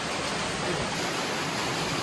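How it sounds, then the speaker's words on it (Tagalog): A river running high in rainy weather after a night of steady rain, with water rushing in a dense, unbroken broadband roar that stays steady and close for the whole stretch. "Papakita ko sa inyo guys ang ilog"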